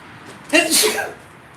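A single sharp sneeze, close and loud, with a quick breathy intake before the burst.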